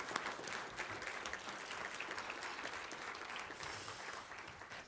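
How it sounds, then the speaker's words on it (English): Sustained, fairly distant applause from a conference audience at an EU agri-food event, an even wash of clapping with no voices over it. "Ladies and gentlemen, big round of applause for all our projects here on stage."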